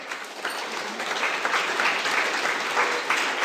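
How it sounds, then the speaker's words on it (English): Audience applause for a class's top ten ranked teams during a lecture, a steady wash of clapping from a room of listeners at even loudness throughout. "Just a round of applause for our"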